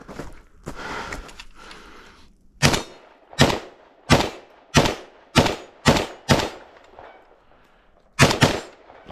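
A ZPAP underfolder rifle fires a steady series of about eight loud, sharp shots at intervals of roughly half a second to a second, each with a short echo, after some quieter handling noise.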